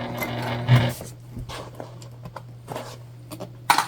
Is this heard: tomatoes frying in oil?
no